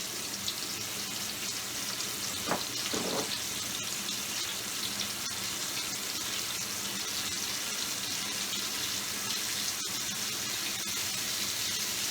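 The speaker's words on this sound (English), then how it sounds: "We're going to fry this in batches" Fish pieces deep-frying in batches in hot oil for Chinese salt and pepper fish, a steady, even hiss of bubbling oil running throughout with a brief brighter crackle early on.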